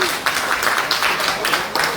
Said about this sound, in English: truly deserves a tremendous round of applause for her presentation just now